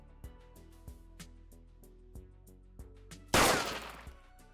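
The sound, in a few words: gunshot sound effect played on stream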